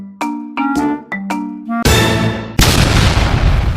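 A motorcycle fitted with a modified RX silencer: a few short, tonal engine blips give way to loud, continuous crackling and popping backfire bursts from the exhaust, close by, with no talking.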